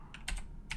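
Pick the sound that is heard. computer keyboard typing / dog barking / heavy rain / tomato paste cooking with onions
computer keyboard typing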